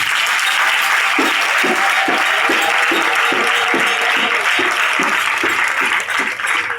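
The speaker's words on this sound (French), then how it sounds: "Acclamons Jésus." A congregation at a French church service applauds in acclaim of Jesus: loud, sustained clapping from a large crowd, with a steady rhythmic low pulse running beneath the dense applause throughout.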